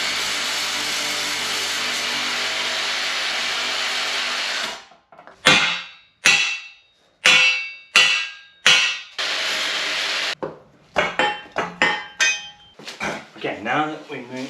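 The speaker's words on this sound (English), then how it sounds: "So I guess we're gonna have to use the Sawzall." A Sawzall reciprocating saw cuts into a truck bumper in a steady, loud buzzing run for about five seconds, then breaks into a series of short, sharp bursts of sawing and rasping.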